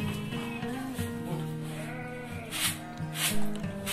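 Sheep and goats bleat in a shepherd's livestock shed, a run of drawn-out, wavering bleats from a few animals nearby, overlapping and fairly loud with no talk.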